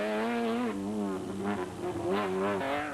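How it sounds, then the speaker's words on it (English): A Feltex Imperial Toyota Hilux off-road race car roars loudly past at the Sun City 400, its engine note rising and falling through gear changes as it sweeps by close at hand. "The Feltex Imperial Hilux sounded superb as it passed our vantage point"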